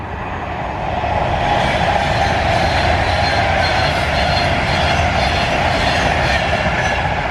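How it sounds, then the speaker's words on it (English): A train on the Birmingham–London line rumbles past close by, a steady loud roar of wheels and carriages that swells in the first second and holds throughout. "Got a train coming now."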